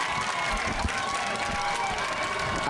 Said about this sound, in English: It's hard to hear you over the crowd